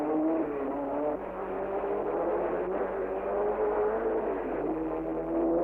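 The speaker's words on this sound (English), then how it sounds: "As dawn came up, I watched the leading Ferrari through Mulsanne." A leading Ferrari race car runs through Mulsanne at Le Mans at dawn, its engine a steady, sustained drone with slight pitch shifts, heard alone on a muffled, band-limited recording.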